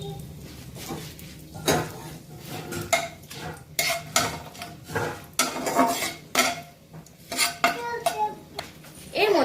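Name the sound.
whole garam masala and bay leaves added to hot oil in a pot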